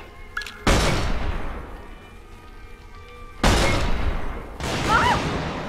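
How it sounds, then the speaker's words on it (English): Magnum revolver fire and detonating rounds in Resistance 3 make three separate loud booming blasts, each a sharp crack trailing into a rumbling decay, with a faint hum between shots. "Mind showing my mom how you fire a magnum?"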